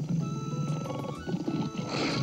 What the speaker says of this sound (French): Le tigre grogne à leur passage.